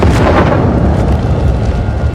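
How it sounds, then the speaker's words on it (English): An explosion gives a loud, sustained booming rumble that fills the whole stretch, with dense low roar throughout and no voices. "Michonne hears an explosion."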